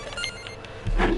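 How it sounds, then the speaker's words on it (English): A phone buzzes or rings faintly in a room, with a few short tonal pulses followed by a louder burst of low noise near the end. "I think my phone buzzed."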